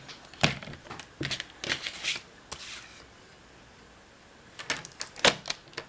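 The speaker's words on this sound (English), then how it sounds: "first we're going to go ahead and cut this down to 8 inches" A paper trimmer slices Whisper White cardstock down to 8 inches, giving a run of quick dry scraping swipes, then a quiet pause, then another cluster of crisp paper cuts close by.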